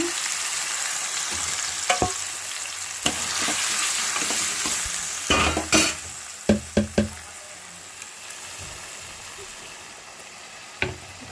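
Tomato curry frying in a home kitchen pan, a steady sizzle underneath with scattered clinks and knocks of a stirring spoon against the pan, close and alone.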